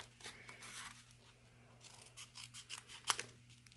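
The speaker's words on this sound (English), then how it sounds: "And then we're just going to cut it out." Scissors cutting out a stamped paper piece for a pumpkin craft project, quiet repeated snips close by with one sharper click near the end, no voices.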